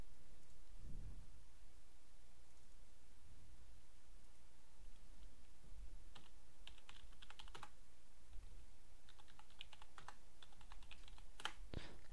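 Quick bursts of keystrokes on a computer keyboard as a password is typed, scattered clusters of soft clicks over a low steady hum, with a louder thump near the start.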